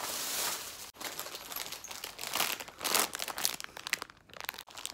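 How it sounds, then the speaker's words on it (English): Close, loud crinkling and crumpling of a plastic bag holding supermarket food in Japan, in irregular bursts of rustling with short pauses and no talk. "I hear it's in a plastic bag."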